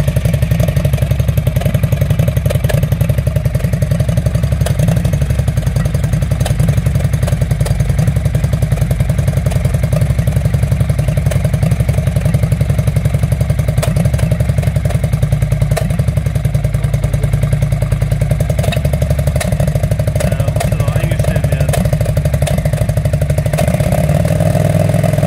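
A Yamaha Virago 535 V-twin converted to a bobber idles loudly through a new aftermarket exhaust, a deep, throbbing, uneven rumble that runs continuously up close with no speech.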